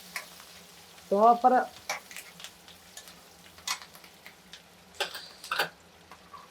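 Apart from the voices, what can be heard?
green chillies, ginger and cashews frying in a pan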